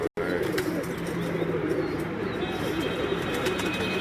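Pigeons of a very old breed on a rooftop in Islamabad, with soft cooing mixed into a steady, dense outdoor background that runs continuously after a brief dropout at the start.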